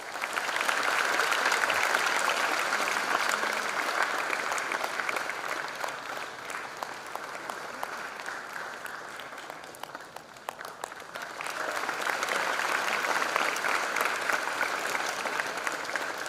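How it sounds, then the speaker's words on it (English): An audience at a freshers' induction programme gives a dense, sustained round of applause that is steady and loud throughout, dipping briefly near the middle before swelling again. "Let's give a round of applause."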